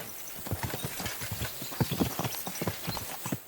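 Horse hooves clip-clop steadily in a medieval game world, a quick uneven rhythm of close, moderately loud steps, with a few stumbling, doubled-up beats.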